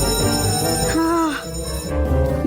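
A bell rings in a school classroom scene, a steady electric ringing heard loudly with voices talking over it.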